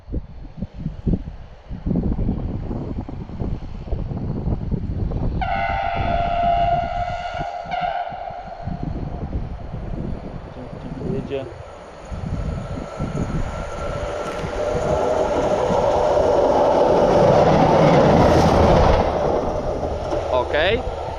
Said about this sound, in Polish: Widzimy, pociąg jedzie